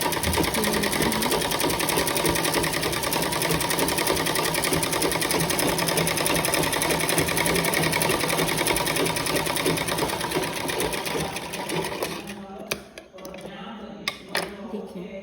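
Close and loud, a sewing machine stitches a bias strip onto a blouse in a fast continuous rattling run, then slows and stops near the end, leaving a few brief clicks.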